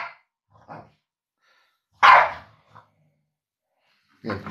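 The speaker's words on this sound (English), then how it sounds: "It's not even my fucking dog." A dog barks in a few sharp, separate bursts spaced irregularly with quiet gaps between them. One loud bark stands out in the middle, heard fairly close with no talking.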